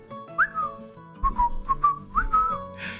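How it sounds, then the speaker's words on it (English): A person whistles a short tune of several clear, sliding notes, some held and some clipped, close by and moderately quiet, with faint background noise and no talking. "and then I started whistling"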